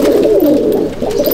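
Several pigeons coo together in a loft, a close, steady layer of low throaty calls with no gaps.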